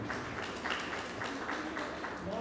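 Steady applause from a gathering at a spiritual birthday and Raksha Bandhan celebration, a dense wash of many hands clapping evenly throughout, moderately loud and filling the room with no pause.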